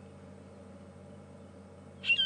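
A quiet, hushed background on an evening safari drive at Djuma, South Africa, then near the end a drongo gives a short, high, whistled call mimicking a Wahlberg's eagle.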